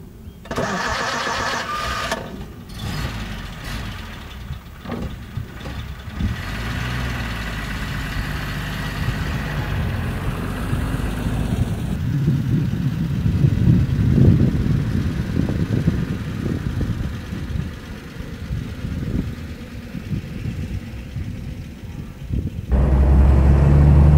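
A 1938 Mercedes 320 Cabriolet A engine runs steadily nearby, a continuous low rumble that builds slightly as the car moves off and drives, with a louder burst at the very end.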